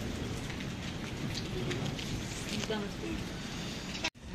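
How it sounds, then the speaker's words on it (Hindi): Steady rain patters on a surface with a constant hiss, a faint voice murmuring underneath, ending in an abrupt cut. "बारिश बंद नहीं हो रही है"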